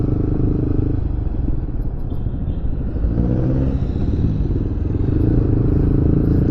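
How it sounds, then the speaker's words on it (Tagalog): Yamaha MT15 motorcycle with a stock, non-open muffler riding along: a steady, moderate engine hum with low rumble and wind, fairly constant throughout with a slight rise in pitch midway. "ganito pala kasarap magmotor kapag hindi ka naka open muffler"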